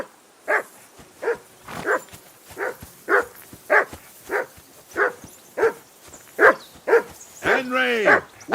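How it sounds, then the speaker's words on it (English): A dog in Kingdom Come Deliverance 2 barks about fourteen times in a steady rhythm, loud and close, ending in a drawn-out whining howl. "That dog of yours is barking like the devil."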